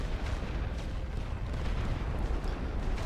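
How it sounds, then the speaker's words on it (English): Heavy artillery fire in The Great War: Western Front video game on a trench assault, a dense continuous rumble of distant booms and blasts, loud and unbroken. "This trench isn't as well defended, so they'll take some damage from my heavy artillery."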